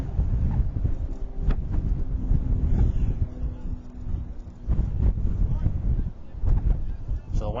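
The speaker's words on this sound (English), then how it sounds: "with the wind really howling around" Strong wind buffets the microphone at an outdoor high school baseball game, a loud continuous rumbling roar with gusts rising and falling throughout.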